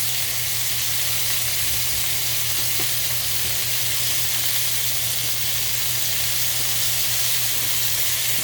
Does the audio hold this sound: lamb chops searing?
yes